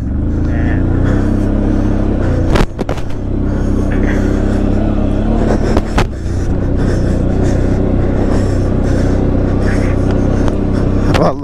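A 1000cc ATV engine riding a dirt track near a gold mine, droning loudly and steadily throughout with deep rumbling and brief bumps, while a voice talks faintly over the engine noise.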